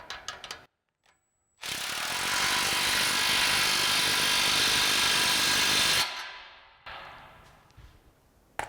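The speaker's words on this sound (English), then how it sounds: "we'll take our 15 mil socket on our impact and tighten these down" An impact wrench with a 15 mm socket tightens exhaust clamps on a 2015-2024 Mustang GT X-pipe, sounding as a single loud, sustained burst of about four seconds after a brief quiet, then cutting off, with no talking.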